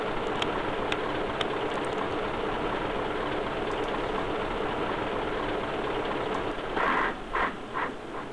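An electronic engine sound from a USM-RC-2 sound module in an RC model idles with a steady, close knocking drone, then winds down with a few final sputters near the end.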